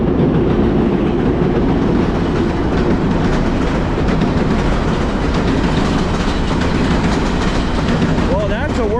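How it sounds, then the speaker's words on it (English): A train rolls along a working railway track near a small river, a loud, steady rumble and clatter of wagons that continues throughout, with a brief whistle-like wavering tone near the end. "Well, that's a working train track if I've ever seen one."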